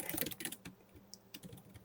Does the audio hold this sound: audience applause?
no